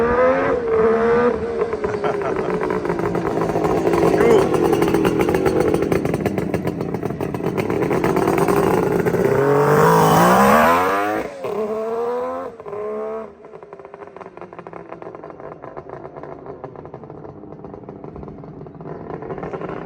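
A Suzuki GT550 two-stroke motorcycle engine revs loud and close through expansion-chamber exhausts, with sustained buzzy throttle blips rising and falling, a sharp climbing rev near the middle, then settling back to a steadier, slightly quieter idle.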